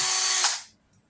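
A power drill bores out a string trimmer line spool in one loud, close burst of about half a second, then winds down and stops.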